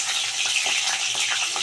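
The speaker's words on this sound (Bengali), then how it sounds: "এবারে পটল আর আলুগুলো দিয়ে দেবো, দিয়ে ভালো করে লাল করে ভেজে নেবো।" Pointed gourd and potato pieces sizzle and fry in a pan while being stirred, a steady close hiss with scraping stir strokes and no talking.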